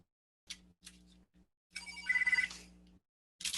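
A telephone rings during a panel discussion, with several short electronic ring bursts and then a longer, louder warbling ring, fairly near in an otherwise quiet room.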